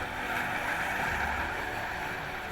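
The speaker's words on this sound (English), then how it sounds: "The engines create steam to propel the SS Badger across Lake Michigan" The steam engines of the SS Badger car ferry crossing Lake Michigan give a steady, dense mechanical rumble and hiss that holds even and continuous throughout, with no voices.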